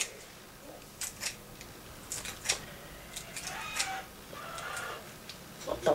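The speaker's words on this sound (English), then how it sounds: "Some chicken freaking out outside." A chicken squawks outside in short, scattered bursts, faint and distant over quiet background noise, with no talk.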